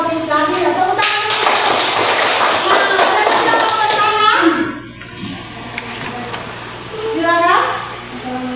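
A classroom claps for a student group, a burst of bright, noisy clapping for several seconds with children's voices mixed in, then it fades to scattered talk and chatter.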